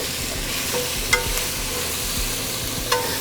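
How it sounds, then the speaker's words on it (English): Bell peppers, onions and celery sauté in a pan with a steady sizzle, soft stirring scrapes and a couple of sharp utensil clicks against the pan. "mix that together, saute it, get a nice good sear on that"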